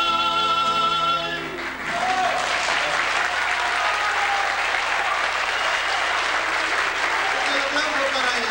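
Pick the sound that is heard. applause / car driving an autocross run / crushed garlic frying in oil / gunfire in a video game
applause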